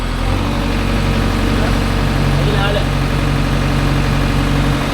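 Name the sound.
JCB 3DX backhoe engine revving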